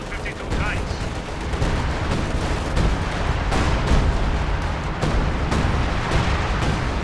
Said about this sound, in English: Assault artillery coming down on this point.